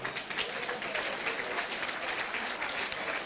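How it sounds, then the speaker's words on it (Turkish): Audience applause at an outdoor backyard holiday festival show, a dense, steady wash of clapping that holds at an even level throughout with no voices over it. "Onlara da bir alkış çiçeklere de."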